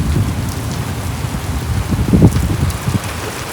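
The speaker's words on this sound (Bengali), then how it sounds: "অবশেষে বৃষ্টি হলো" Heavy rain pours down after a long wait, with dense drops drumming on surfaces and a steady wash that swells slightly midway, close and continuous with no talk.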